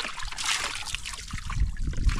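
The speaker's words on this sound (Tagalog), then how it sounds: "Kaya dire-diretso lang yung tulo ng tubig" Natural spring water trickles steadily onto rock at a campsite by rice terraces, a continuous close wet patter with a few heavier drips.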